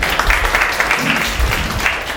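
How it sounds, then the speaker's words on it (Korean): An audience at a women's policy debate forum on the presidential election claps to welcome the next speaker, sustained, loud, even applause from a full room. "큰 박수로 맞아주십시오."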